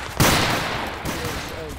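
Gunfire in the video game Total Conflict: Resistance: a loud burst of shots opens, then a sustained rattling fusillade carries on with another volley near the end, while voices talk underneath.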